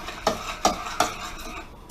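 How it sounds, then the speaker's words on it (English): A thickening three-berry tart filling is stirred in a pot, with a utensil scraping the pan in three quick, evenly spaced strokes. The scrapes are close and fairly quiet, with no talking. "We'll just stir a little bit more."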